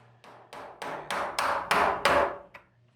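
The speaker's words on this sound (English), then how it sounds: "it's probably going to need some assistance using a rubber mallet or the back of the flathead screwdriver" Seven sharp taps from a rubber mallet strike a tilt window pivot lock shoe, close and alone, steadily growing louder before stopping, with a faint softer knock near the end.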